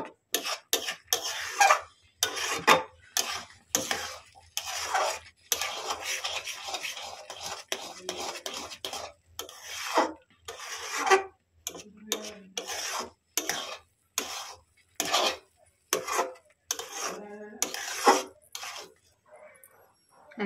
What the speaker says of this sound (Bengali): দেখুন এইভাবে এটাকে আমি নেড়ে নেড়ে সন্দেশের মতো একটা শেপ দিয়ে দেবো আঁকাতে। রান্না করে নেবো এটাকে।